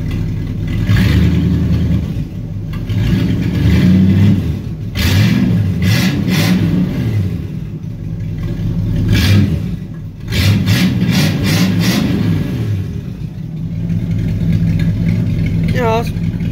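A 1964 Impala with a 283 V8 and open exhaust manifolds rumbles and revs up repeatedly, loud and close, with the engine rising and settling between blips while a voice is occasionally heard.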